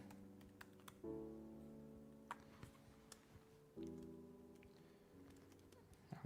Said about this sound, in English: I should probably type in front of you guys